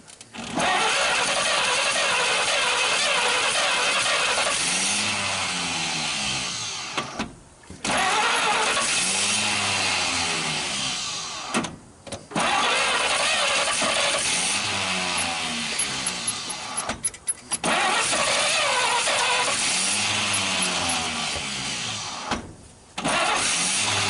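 A 1939 Chevrolet Master engine cranks over repeatedly without catching, several long loud bursts of starter churning separated by brief pauses, close and continuous.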